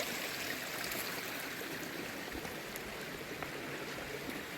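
A brook flows beside a New Hampshire mountain hiking trail, giving a steady, broadband rush of running water that holds an even level throughout with no voices.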